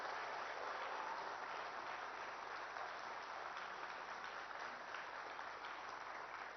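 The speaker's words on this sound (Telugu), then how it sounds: "చేస్తా అనుకున్న వాళ్ళందరూ కూడా గట్టిగా చప్పట్లు కొట్టాల్సిందిగా నేను కోరుతున్నా." An audience applauds at the closing ceremony of a training program for Group-1 and Group-2 civil service candidates. The clapping is a steady, even wash of sound that stays faint and distant for several seconds with no talking over it.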